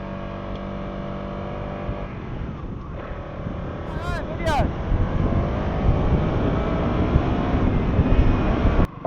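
A KTM motorcycle engine pulls steadily while being ridden, a continuous droning roar mixed with heavy wind rush that builds slightly louder toward the end.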